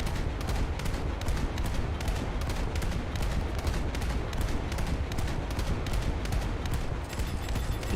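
Naval gunfire in a game battle involving US coastal vessels and a destroyer: a dense, steady rattle of rapid shots repeating evenly for several seconds over a continuous roar, with no speech.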